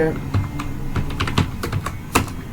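Typing on a computer keyboard while entering paragraph text, a steady run of quick irregular key clicks with a few sharper taps, up close, with faint speech-like sound mixed in.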